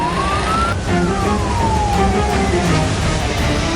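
A fire engine siren sounds at a house fire in Indonesia, its wailing tone sliding up then gradually down over a loud rumbling street background, fairly close and with no voices.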